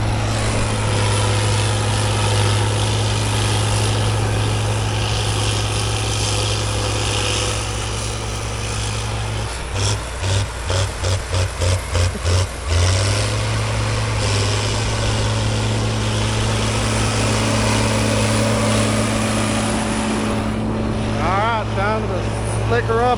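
A John Deere 8560 tractor's large diesel engine runs steadily with a deep throbbing hum, briefly sputtering in rhythmic pulses midway, with a person talking over it.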